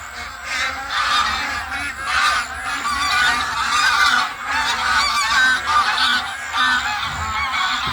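A flock of migratory geese honks loudly and continuously in overlapping calls at Kaziranga National Park while a fish eagle chases them, a dense, busy chorus with no talk.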